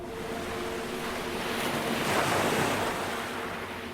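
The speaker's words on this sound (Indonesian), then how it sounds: "Cuacanya dingin dan terdengar suara ombak." Ocean waves on a cold night, with steady surf rushing and swelling slightly toward the middle, accompanied by a low wind rumble and no voices.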